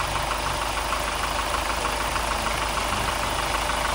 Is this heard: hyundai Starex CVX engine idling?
yes